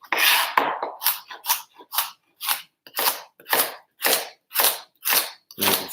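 A knife chops vegetables on a cutting board for a ginger, garlic and honey stir-fry, giving about a dozen crisp, steady cuts in an even rhythm, close and alone.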